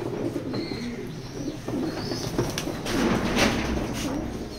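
Racing pigeons coo and shuffle inside a pigeon loft, a steady soft cooing chorus at close range with faint clatter and occasional higher chirps, and no clear speech.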